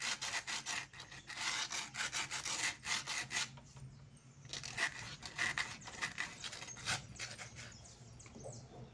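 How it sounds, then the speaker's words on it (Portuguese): Folded sandpaper rubs over a cement garden gnome in quick, close strokes, coming in bursts of rasping scrapes with short pauses, fairly quiet and without talk. "Nessas partezinhas aqui vocês lixam com a lixa dobrada, ó, pra vocês não perdem o desenho."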